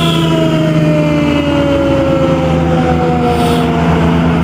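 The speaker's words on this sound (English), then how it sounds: "sirens" Loud wailing police siren with a slowly falling pitch, accompanied by the heavy rumble of a large truck engine close by.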